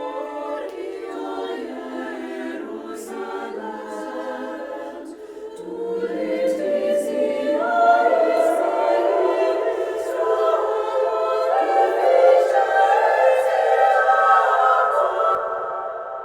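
A dry instrumental recording given the cathedral preset of the ab vortEx reverb plugin, heard as sustained tonal layers swelling into a long, washy tail that grows fuller and louder midway, with no talking.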